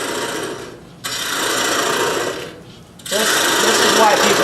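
A wood lathe turns a calabash bowl at about 800 RPM, with broadband scraping from the cutting tool coming in sustained passes separated by brief quieter gaps, close and fairly loud.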